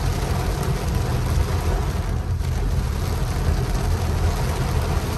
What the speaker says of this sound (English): Holy smokes, it's raining hard.